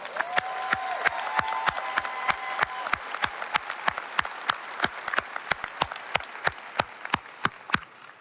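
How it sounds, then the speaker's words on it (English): Sustained audience applause at a pharmacy graduation ceremony, a dense wash of many hands clapping, loud and steady, while a few sharper individual claps stand out and gradually thin toward the end. "Let's give everyone a thankful round of applause"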